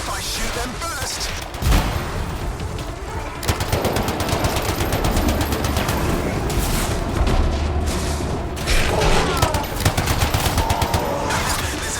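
Rapid automatic gunfire in the Anthem video game runs nearly continuously for the whole span, loud and dense, with bursts and booms layered over a steady rattle and occasional faint voices.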